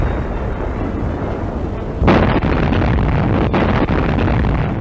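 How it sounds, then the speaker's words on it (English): Shells from the crippled Nazi battleship Bismarck burst near a British warship. A sudden loud explosive burst rises out of a steady roar and is followed by sustained rumbling noise, with no voices. "Shells from the doomed Nazi battleship continue to burst."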